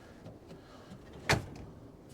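A drawer in a Lone Peak camper interior being rebuilt slides along its runners with one sharp, close bump as it shuts, set against quiet background, no talk.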